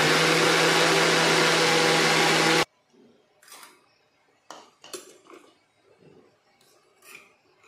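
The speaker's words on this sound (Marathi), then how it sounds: "हे बघा मी मिक्सरच्या भांड्यात ते बॅटर काढून घेतलेलं आहे।" A mixer grinder blends bhagar and sabudana idli batter with curd, giving a loud steady whir for under three seconds that stops abruptly, then faint clinks and handling sounds of the jar.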